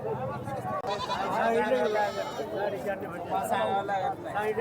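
Billy goats bleat repeatedly at the Bhigwan livestock market in Maharashtra, their wavering calls overlapping amid steady crowd chatter and people talking nearby.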